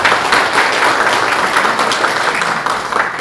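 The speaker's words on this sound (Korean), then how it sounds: "박수 한번 보내주십니다." A large audience applauding at a Korean forum with a lawmaker's opening address, a loud, dense, sustained burst of clapping heard up close that holds steady for several seconds and begins to thin toward the end.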